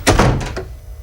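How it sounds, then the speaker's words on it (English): A door is shut with a single loud thunk, followed by a brief rattle and a fainter knock as the sound dies away. "Shut the door! Shut the door!"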